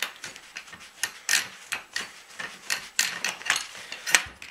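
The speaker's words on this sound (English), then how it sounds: "This is the barrel nut. Thread this out and pull it out as you go." A Mossberg 500 shotgun's barrel nut being unthreaded by hand, heard as a close run of soft scraping, rasping and light ticking metal contacts in an irregular rhythm, with no talk.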